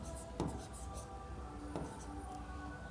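Marker or chalk scratching across a board during a physics lecture on rotational motion, quiet strokes with two sharper taps, faint and close with no talk.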